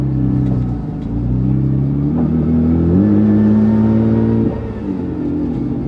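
A 1500 hp Nissan GT-R R35 pulls hard under acceleration, its engine drone climbing steadily in pitch, briefly easing, then rising again before settling into a lower, steady rumble, close and loud with no voices.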